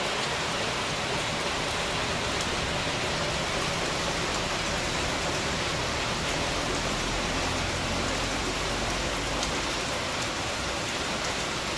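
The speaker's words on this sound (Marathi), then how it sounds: "पाऊस दाखवतो केवढा आहे." Heavy monsoon rain pours down steadily, a dense, unbroken roar of water hitting surfaces that stays loud and constant throughout, with no voices.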